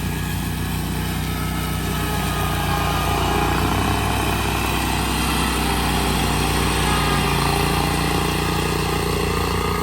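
A steady, loud engine drone from an Altoz tracked mower running over thick brush outdoors, continuous and unbroken for the whole stretch with no talking.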